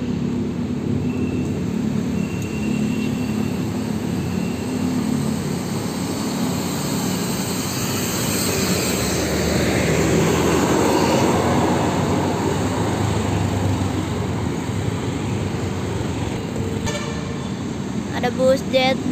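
A Jetbus 5 coach passes on an Indonesian road amid holiday Lebaran 2024 return traffic; a broad engine and tyre roar swells to a peak midway and fades, with voices talking over the steady road noise.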